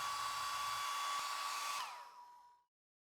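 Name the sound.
heating a dbrand Galaxy Buds skin with a hair dryer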